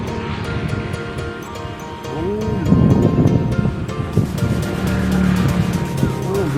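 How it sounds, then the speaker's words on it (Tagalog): Fast-flowing sea water and waves wash at Bugsay beach in Tajao, Pinamungajan, Cebu, a steady broad rush that swells louder midway, with occasional voices talking over it. "Bilis ng agos ng tubig."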